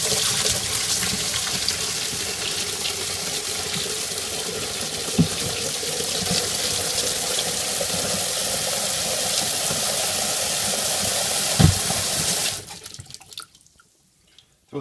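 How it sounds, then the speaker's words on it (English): Hot water pours steadily from a tap into a bucket, a loud, even rushing splash lasting about twelve seconds before the flow is shut off and it goes quiet. "Fill it with hot water."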